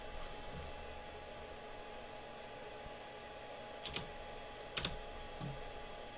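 Computer keyboard keys clicking at a sim-racing desk, a few sparse, faint taps spread out over steady background hiss, with two small clusters of sharper clicks near the middle and end.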